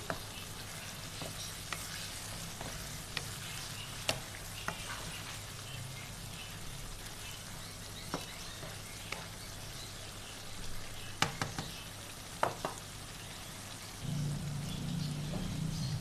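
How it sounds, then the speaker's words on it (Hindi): Beef karahi, Pakistani style, frying on low heat gives a soft, continuous sizzle with scattered light clicks and spatula taps, growing a little louder toward the end. "और इसे हमने 10 मिनट तक हल्की आंच पे भूनना है।"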